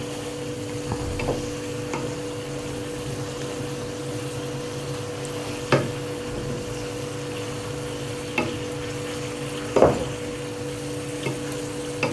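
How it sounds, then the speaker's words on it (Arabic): Lamb liver, kidneys and hearts frying with garlic in a pan, a low steady sizzle with occasional scrapes and knocks as the meat is stirred, alongside a constant background hum. "عندنا نقلب في الكبده كده."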